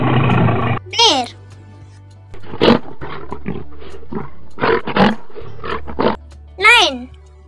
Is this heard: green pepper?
no